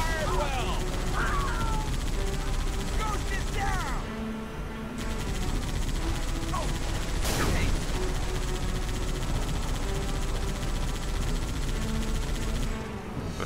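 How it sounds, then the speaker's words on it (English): Enemy gunfire in the video game Halo 3 crackles in a dense battle mix, with a sharp burst near the middle and sustained combat noise throughout while a voice talks over it. "Why they're opening fire there."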